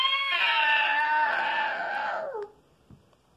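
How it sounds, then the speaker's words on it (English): A wet cat that has just fallen into a river lets out one long, loud, strained yowl lasting over two seconds, then cuts off abruptly, followed by near silence with a faint thump. "you can hear that cat"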